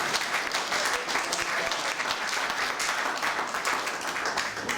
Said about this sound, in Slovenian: In zaradi tega še en aplavz.